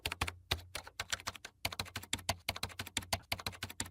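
Rapid, steady typing on a computer keyboard while bank account details are entered, with crisp close keystrokes in quick bursts and a brief pause near the start.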